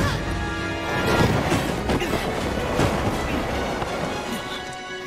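A train rolls along rails in Final Fantasy VII Remake, a loud continuous rumble with rhythmic clattering and metallic knocks throughout, close and without talking.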